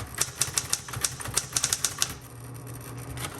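Smith Corona Electra 110 electric typewriter from the 1970s striking the X key repeatedly to strike out a word, a quick run of about a dozen sharp clacks that stops, then a low motor hum with one faint final click.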